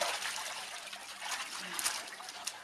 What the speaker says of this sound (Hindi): फिर पैरों की पानी से मालिश करें।